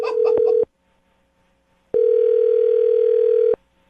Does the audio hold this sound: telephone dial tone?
yes